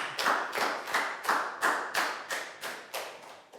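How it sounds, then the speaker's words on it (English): Students in a health lesson clap in about ten evenly spaced, sharp bursts, a rhythmic group round of applause, fairly close, with no talking over it. "a big round of applause"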